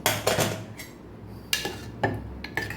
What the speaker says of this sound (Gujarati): હવે આપણે કુકર ખોલીને જોઈ લઈશું